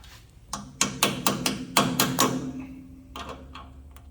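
A hammer taps swivel bearings into place: about eight quick, sharp taps in a fairly even rhythm, a short pause, then two more taps, close and fairly loud.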